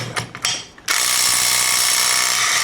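MASARU SCDW-225 cordless impact wrench, rated 350 newton-metres, loosening a nut: a few brief starts and stops, then a loud, continuous rapid hammering rattle held close.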